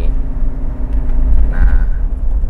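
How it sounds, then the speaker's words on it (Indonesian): A Toyota VXR 80 picking up speed and shifting gears at around 1700–1800 rpm, its engine a loud, steady low rumble with a brief change in tone partway through. "ini kita coba, kita gas, pindah giginya di 1700-800 rpm nih"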